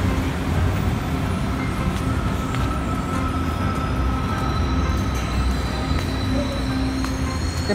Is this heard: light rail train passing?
yes